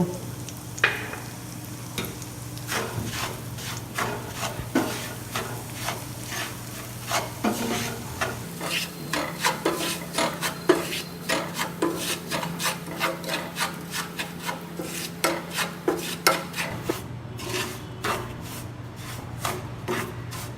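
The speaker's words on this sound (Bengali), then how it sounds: "দু টেবিল স্পুন ঘি দিলাম, দিয়ে সুজিটাকে লাল করে ভেজে নেব।" Semolina roasts in two tablespoons of ghee, stirred continuously with a rhythmic, gritty rubbing and scraping of a spoon along the pan over a soft low sizzle and faint hum, with no speech.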